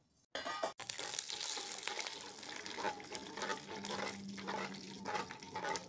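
Chopped onion sizzling in hot mustard oil with whole cumin, cinnamon, black pepper, cloves, cardamom and bay leaf for methi chicken; a steady, close frying hiss that runs throughout after a brief initial clatter.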